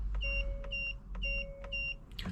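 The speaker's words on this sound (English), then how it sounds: "2 confirmation flashes and 2 beeps as acknowledgement of success." A Hyundai Ioniq's Ghost 2 immobiliser sounds two pairs of short, clean electronic confirmation beeps, close and clear over a quiet car interior hum, followed by a soft click.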